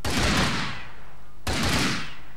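Gunfire in the Minecraft LimitedWar server, a military-style modded game: two loud bursts of rapid shots, each decaying into a noisy tail, the second starting about halfway through.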